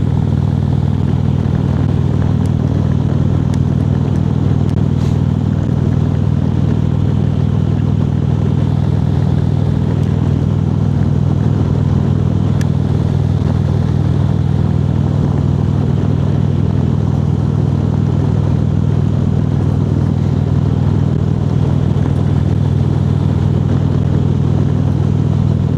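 Motorcycle engine on a night ride, a loud steady low drone with constant wind and road rumble and no real changes in pace, no talking.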